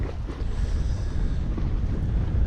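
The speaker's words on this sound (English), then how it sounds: "it's pretty choppy out there, pretty windy" Strong wind buffets the microphone over choppy winter water on a catfishing outing, making a constant low roar and rumble with no clear splashes standing out.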